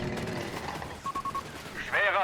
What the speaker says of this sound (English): forcing him to withdraw here in the face of unrelenting assault rifle fire